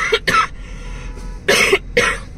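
A woman coughs in two separate bursts, a pair of quick close coughs at the start and another pair about a second later, loud and near with a faint pause between them.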